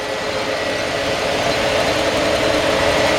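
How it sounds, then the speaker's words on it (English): A 1951 Ford F1 truck engine idles steadily and smoothly, a constant low rumble with an even mechanical hum, close and fairly loud, with no voices. "I mean, just a smooth running engine."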